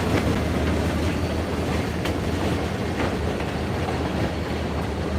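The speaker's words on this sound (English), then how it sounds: "Another remote control locomotive switching here at the debug yard" A CSX remote control locomotive, unit 3073, switches cars in a rail yard below a high cliff, giving a steady, continuous rumble with faint clanks of rolling stock throughout, fairly loud and without speech.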